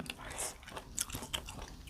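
Soft crunchy chewing of fresh vegetables eaten with stir-fried jackfruit, with several faint crisp bites spread across a quiet moment.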